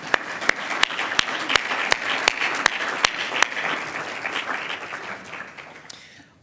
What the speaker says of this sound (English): A round of applause, please, for our sponsors.